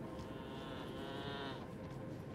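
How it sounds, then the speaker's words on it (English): Goats in Elden Ring: Shadow of the Erdtree give a drawn-out, wavering bleat over a dense, steady game soundscape. "Creepy ass goats."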